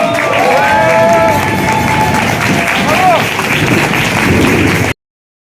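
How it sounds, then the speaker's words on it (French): Wedding guests stand and applaud in a reception hall, with sustained loud clapping and crowd cheering, some voices rising above the applause, before it cuts off abruptly. "levez-vous s'il vous plaît et applaudissez"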